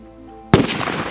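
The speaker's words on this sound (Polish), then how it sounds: "Okej, to zabieramy się za eksperyment z butelką pełną wody." A firecracker detonates inside a bottle full of water, a sudden heavy bang followed by a sustained noisy rush as the blast dies away. There is no talking.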